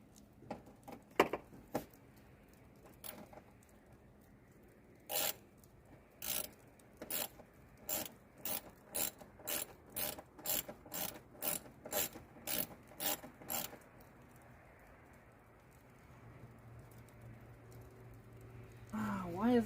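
A ratchet clicks in a steady run of about fifteen sharp strokes while a bolt is worked on a car that won't start, close and crisp against a quiet background, with talking at the start and end.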